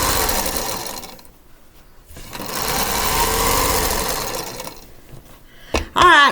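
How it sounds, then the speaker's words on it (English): Sewing machine stitching the last border onto a scrappy quilt, running in steady loud bursts with short pauses between runs and a sharper mechanical clatter near the end. "I'm going to keep sewing"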